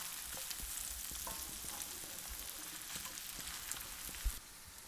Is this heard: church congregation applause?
no